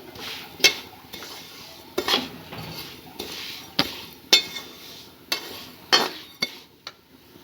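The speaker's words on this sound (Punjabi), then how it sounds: "ਇਹਨਾਂ ਨੂੰ ਵੀ ਚੰਗੀ ਤਰ੍ਹਾਂ ਇਹਦੇ ਵਿੱਚ ਮਿਕਸ ਕਰ ਲਵਾਂਗੇ ਜੋ ਖੁਸ਼ਬੂ ਆ ਰਹੀ ਹੈ ਭੁੰਨਣ ਦੀ" Roasted vermicelli (seviyan) stirred in a pan, with a metal spoon tapping and scraping the pan in sharp, separate clinks every second or so over a quiet, soft rustle.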